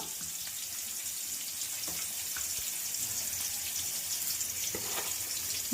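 Rohu fish fries in a pan with a steady, faint hiss and sizzle, broken by occasional soft pops and crackles of oil, with no voices over it.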